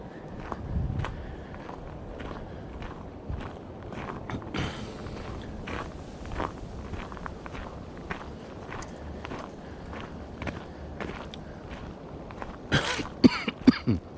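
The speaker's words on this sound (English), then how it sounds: "Sorry again for the coughing." Footsteps crunching along a wooded creekside nature trail in November, with a person coughing and clearing their throat now and then between the steps, plus occasional creaks and a few louder knocks near the end.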